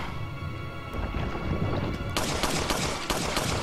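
Gunfire in the Resident Evil 4 video game, Separate Ways chapter: a dense burst of shots and impacts that swells suddenly partway through and stays loud and continuous to the end, with no talk over it.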